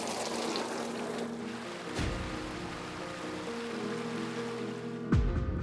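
Water pours and splashes steadily from a waterfall inside a cave, a broad continuous rush filling the space throughout, with a sharper splash or knock near the end and no talking.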